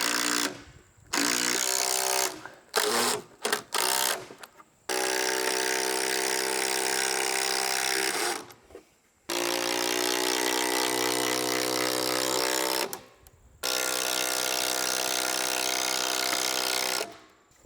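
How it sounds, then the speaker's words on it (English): Long screws driven into cabin timber with a power driver, several short bursts then long sustained whirring runs with brief pauses between, close and loud, no talk. "We're just going to run some long screws in and see if it doesn't just suck it in for us"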